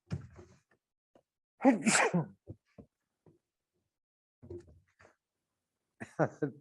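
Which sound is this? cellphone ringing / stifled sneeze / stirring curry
stifled sneeze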